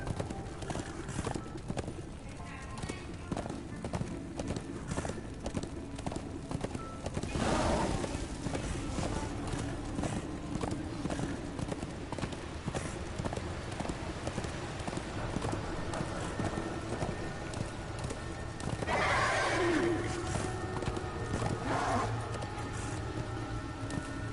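A horse in the action video game Darksiders trots with steady clip-clopping hooves, with a couple of brief neighs rising above the gait partway through.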